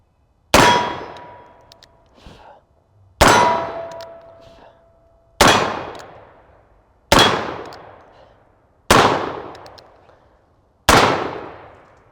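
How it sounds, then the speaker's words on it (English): Six shots from a Remington 1858 percussion revolver fired at steel plates 8 to 12 yards away, each a loud sharp report with a ringing decay, evenly spaced about two seconds apart, some followed by a faint metallic clang. "All right, so we fired our 6 shots. We have 5 hits."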